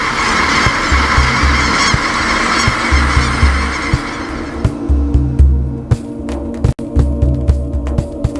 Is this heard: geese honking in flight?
yes